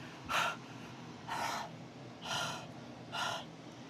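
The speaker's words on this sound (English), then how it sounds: "Breathe on it." Four slow, close breaths are puffed onto a broken pen, each a soft airy gasp separated by short quiet pauses.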